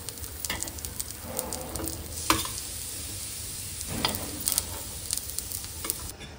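Fried appe being lifted out of a hot appe pan, with steady oil sizzle underneath and scattered scraping, clicking touches of the tool against the pan cavities.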